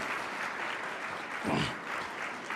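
Nonprofit gathering audience applauding at a veterans memorial museum, a soft, steady wash of many hands clapping that sounds slightly distant, with a brief louder swell midway through and no voices.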